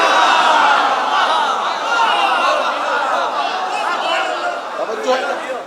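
A large crowd chants religious slogans in unison inside the Jogipura hall, a dense, loud, continuous roar of many voices that swells and dips slightly across the stretch.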